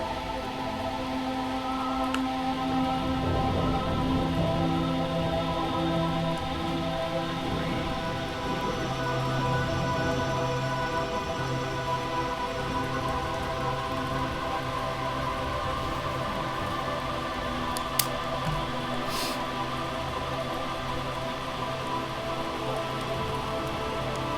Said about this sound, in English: What can we do for the rain sounds?